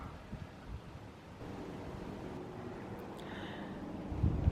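Wind blowing steadily outdoors in a cottage garden, a soft continuous rushing with gusty microphone buffeting, fairly faint and without talk.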